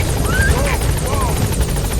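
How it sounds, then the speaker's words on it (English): A support helicopter's rotor in Metal Gear Solid V: The Phantom Pain thumps loudly and steadily close by as it arrives, with a voice speaking over the engine noise. "Support helicopter has arrived."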